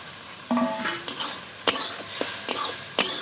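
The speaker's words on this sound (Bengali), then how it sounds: "ভেজে রাখা ভেন্ডি দেওয়ার পরে আমি 1 মিনিটের মতো ভালো করে কষিয়ে নেব" Fried okra being stirred and tossed in a pan during a fish and okra curry, giving a few separate scraping stirs with light sizzling and utensil clinks, close and moderately loud.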